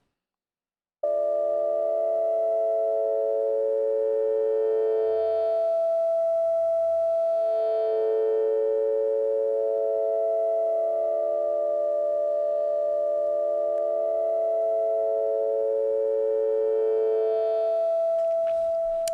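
Sustained synthesizer tones from the Outgrowth Radiate engine hold steady chords, their pitches shifting at a few points, with no voices present throughout.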